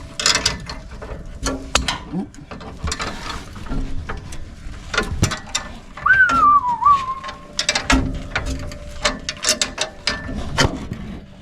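A hand ratchet tightens carriage bolts on the bottom of an old rusted Mustang, giving repeated sharp clicking bursts through the clip with a brief whistle partway along and other workshop clatter around it.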